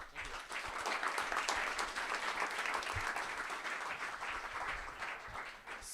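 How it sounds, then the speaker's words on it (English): An audience at a summit conference stage in Paris applauds, a dense sustained wash of clapping that swells quickly and fades near the end. "Big applause for Sunny, please."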